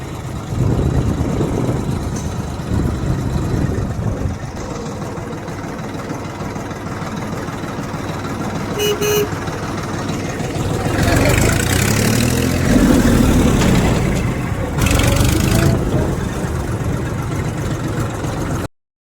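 A tractor engine idles and rumbles steadily throughout, swelling louder midway, with faint voices in the background.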